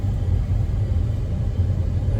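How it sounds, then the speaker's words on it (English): INEOS Grenadier descending a hill in first gear under engine braking, a steady low engine rumble with continuous road and cabin drone, close and even throughout with no voices. "And smooth engine braking."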